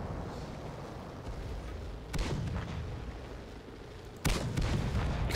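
Two loud, separate explosions roughly two seconds apart crack over a low engine-and-battle rumble in the tank game World of Tanks, each followed by a rolling decay.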